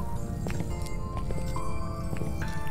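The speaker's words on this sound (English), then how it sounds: "I heard footsteps, yeah." Footsteps in the horror video game Phasmophobia, a steady run of quick, repeated thudding steps at close range over a constant low background hum.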